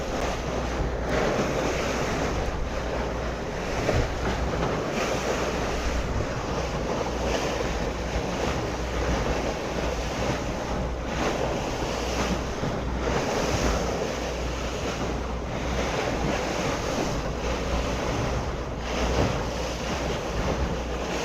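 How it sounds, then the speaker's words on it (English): Waves of the Mediterranean Sea heard from a boat touring the bay off Saint-Tropez, a continuous loud rush of water and surf with heavy wind buffeting the microphone throughout, no voices. "This is the Mediterranean Sea."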